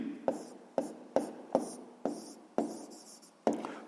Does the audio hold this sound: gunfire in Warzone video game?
no